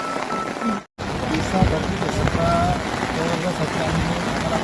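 Continuous hiss of heavy rain falling on surfaces at a highway protest site on the Nashik–Saputara highway, with a brief dropout early and faint voices in the background.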